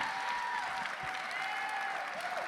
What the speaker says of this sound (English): please, another round of applause for this incredible panel